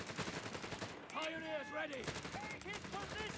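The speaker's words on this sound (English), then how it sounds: "Heavy machine gun back down here trying to cause some trouble, but getting outplayed by these scouts here." Gunfire from a heavy machine gun in the Company of Heroes 3 strategy game rattles in rapid bursts, mixed with other battle noise and a tonal game sound, while a commentator talks over it.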